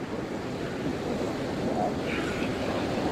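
Floodwater from a swollen river in Kalaktang rushes steadily in a continuous roaring wash, loud and close, with a windy, surf-like texture and no clear voices.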